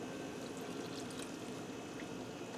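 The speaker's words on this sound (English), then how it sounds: "Now I'm going to add in 1 cup of milk." Milk pours in a steady, continuous stream into a pressure cooker holding elbow macaroni, a soft, even liquid rush with no talking.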